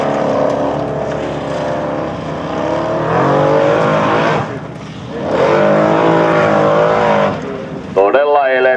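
A Formula Offroad car's engine roars as it climbs a steep hill at the NEZ Formula Offroad 2012 stage in Hyvinkää, Finland, revving in loud surging bursts while a commentator talks over it.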